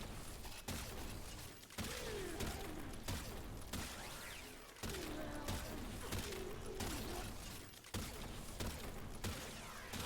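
Gunfire from the Rauta shotgun used by Kullervo in the video game Warframe, dense rapid blasts stacking into a continuous barrage with several abrupt breaks, loud and close, with game mechanism noises under it.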